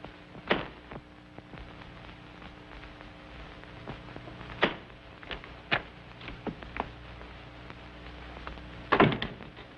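A door swung shut and a well-oiled bolt slid home on a 1936 Ellery Queen radio mystery, several sharp wooden thuds and clunks spaced apart over a quiet background, the loudest cluster near the end, with no voices.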